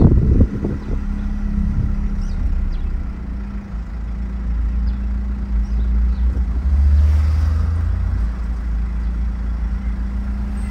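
Code 10 truck under way, its engine droning low and steady from inside the cab with a rise in rumble partway through, no talk over it.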